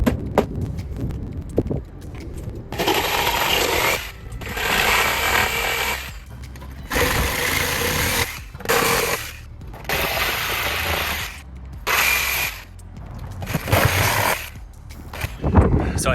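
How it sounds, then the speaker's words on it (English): Sawzall reciprocating saw cutting through nails during demolition of old fascia on a roofline, loud buzzing bursts of a few seconds each separated by short pauses, close up with no talk. "busting out my Sawzall and start the demolition process"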